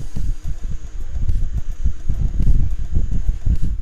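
TANZU 8-inch cordless fan running on speed 2, giving a steady close airflow whoosh with soft gusty buffeting, fairly loud and without talk.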